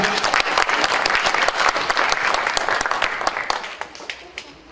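A church congregation at a deliverance service bursts into sustained applause, a dense crowd of clapping hands filling the room before gradually thinning and fading toward the end.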